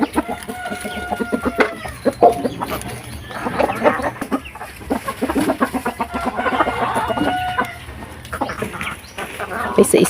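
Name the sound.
pet chickens clucking while being fed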